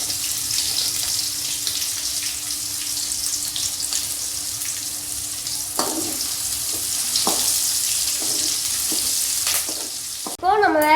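Steady sizzling and crackling of onions and green chillies frying in a hot pan, with occasional stirring scrapes and a brief clatter near the end.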